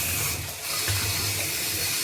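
Water runs steadily from a tap into a bathtub, a continuous close rushing and splashing that dips briefly before carrying on.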